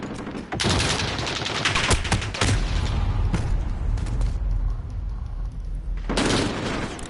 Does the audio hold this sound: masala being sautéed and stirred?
no